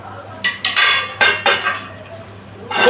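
A metal lid is set onto a pot of papaya and potato curry simmering in water, making several sharp, close clanks and rattles in quick bursts, then a final scrape.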